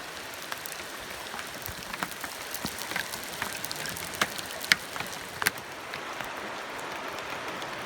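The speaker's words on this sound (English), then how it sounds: "it's starting to rain pretty good here again." Heavy rain pours onto a river's surface, a dense steady patter with scattered louder drops close by, heard alone without voices.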